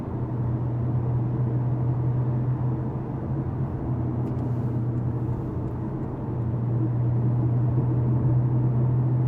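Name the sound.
Porsche 718 Cayman GTS 4.0 cabin noise coasting on highway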